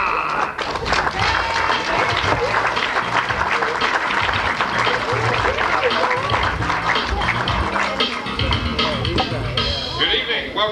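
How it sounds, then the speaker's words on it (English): A comedy club audience in Las Vegas gives a sustained, loud round of applause for the host and MC, dense clapping with some crowd murmur running steadily throughout. "a nice warm round of applause for your host and MC for tonight's show, Mr. Jeff Rock."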